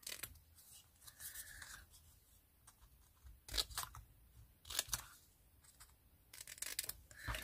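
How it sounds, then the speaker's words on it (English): Scissors snipping through cardstock up close while cutting a banner shape for a handmade card, a few crisp cuts separated by quieter rustling and handling. "I'm just going to use my scissors and just create a little banner each end of my sentiment."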